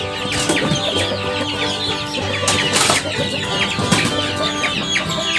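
Free-range village chickens about 40 days old crowd in at feeding time, clucking and calling continuously with bursts of wing flapping, close and busy throughout.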